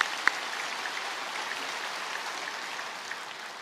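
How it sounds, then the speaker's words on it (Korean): Faint, steady applause from a church congregation during a sermon at Yeouido Full Gospel Church, a soft wash of distant clapping lasting throughout with no voices. "박수 쳐야 돼."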